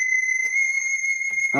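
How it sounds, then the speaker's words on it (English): An alarm chimes quietly in a room, a steady electronic tone with harmonics holding for over a second, and a voice briefly cuts in at the end. "that's my alarm."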